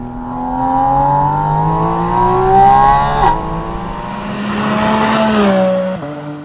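A Porsche Boxster Spyder RS engine revs loudly and close, climbing in pitch, dropping briefly, then surging again before cutting off near the end.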